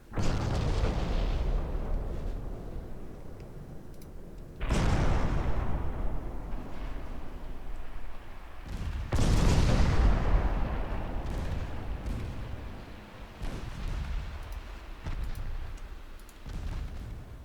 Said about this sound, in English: And now these 10-inch guns are doing a lot more damage